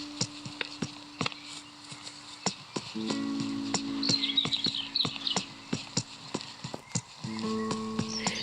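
Horse hooves clip-clopping in steady sharp knocks, close and distinct, over a soft background with sustained tones and faint chirps, during a morning of riding.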